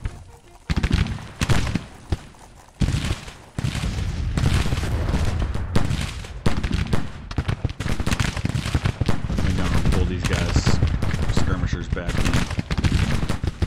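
Loud, sustained long-range musket volleys crackle and boom in a Civil War battle from the strategy game Grand Tactician: Civil War, with dense overlapping shots and brief lulls, while someone talks briefly over the din.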